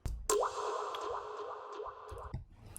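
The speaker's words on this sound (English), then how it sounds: "I have some water drop sample here, just to fill the space between some melody and the other percussion of drum" A water drop sample in an electronic dance track makes a run of bright, bubbly plinks with rising pitch, repeating in a quick rhythmic pattern, close and clear.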